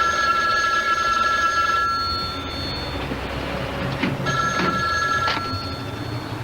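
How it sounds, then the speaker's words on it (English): An old-style telephone bell rings in bursts, loud and close, pausing briefly between rings. "a ringing phone has to be answered"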